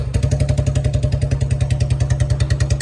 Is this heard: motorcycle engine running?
yes